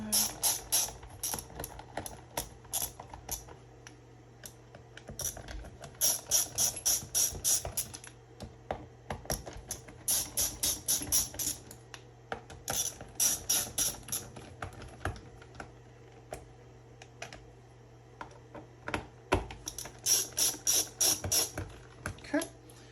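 Screws being loosened one after another from the battery compartment of a Onewheel Pint X, giving close, repeated bursts of small ratcheting clicks over a steady low hum, with brief pauses between screws.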